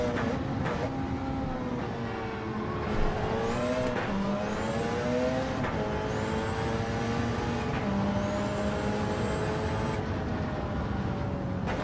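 A Hyundai race car engine in Gran Turismo 7 during a time trial, revving hard and continuously with rising pitch sweeps through repeated gear changes, loud and close throughout.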